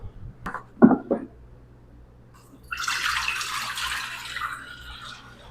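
Water is poured from a container onto flour for bread dough, a steady splashing pour lasting a few seconds after some brief clattering handling sounds, close and with no talk.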